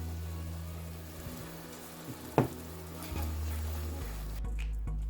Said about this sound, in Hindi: अच्छी तरह क्रीम को भी मिला लेंगे